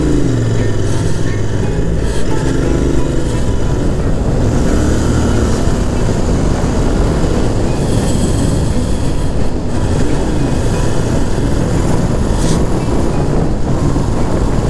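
Continuous loud engine roar and wind rush from a Royal Enfield Interceptor 650 motorcycle being ridden, a dense steady rumble with no pauses throughout.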